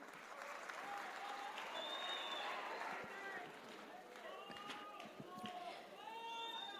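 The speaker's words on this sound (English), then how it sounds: "Very big round of applause for them, please." An awards-night audience at the Minara Sports Icon Awards in Muscat, Oman, claps for a group of singers, steady applause mixed with crowd chatter and some high-pitched sounds over it throughout.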